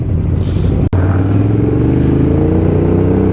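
A Honda Africa Twin motorcycle engine rumbles up close on a group community ride, a loud throbbing idle whose pitch climbs as it revs, with a brief dropout partway through.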